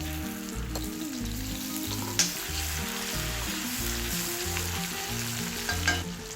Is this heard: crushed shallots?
yes